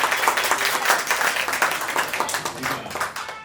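A crowd gives dense, continuous applause to wish film actress Rekha Das a happy birthday, heard close and sustained throughout, with voices mixed into the clapping.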